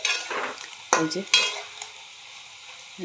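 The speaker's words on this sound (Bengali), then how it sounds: "আস্তে আস্তে নেড়ে ভাজছি আমি।" Potatoes stirred while frying in a pan for a potato dish: soft sizzling with a few sharp scraping strokes of a spatula, two louder clacks near the start, then quieter frying, close and without talk.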